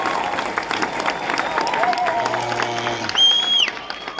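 A graduation ceremony audience claps and cheers for Reverend Kwame Rubadiri in a continuous crowd roar, swelling briefly near the end with a sharp high whistle-like tone above the clapping.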